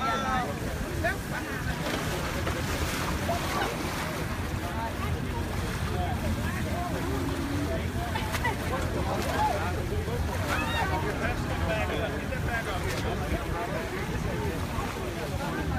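Steady rumble of a boat engine over wind and lapping floodwater during Hurricane Harvey, with voices talking throughout.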